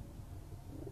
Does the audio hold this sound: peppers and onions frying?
no